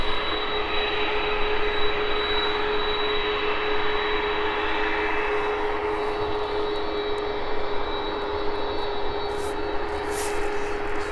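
A large aircraft, called a 76, lands on runway 09 at East Midlands Airport, heard as a loud, steady roar of jet engine noise with a high whine, sustained throughout from fairly close by.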